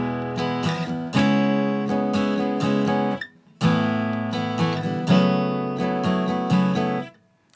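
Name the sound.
acoustic guitar strumming open string chords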